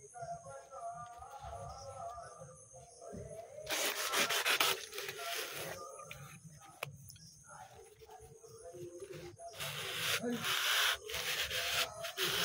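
A blade scraping as it trims a bird feather, with bursts of dry rasping cuts broken by quieter gaps, close up, while a person talks quietly in the background.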